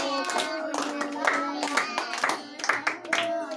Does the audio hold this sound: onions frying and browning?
no